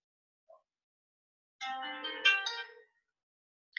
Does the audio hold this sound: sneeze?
no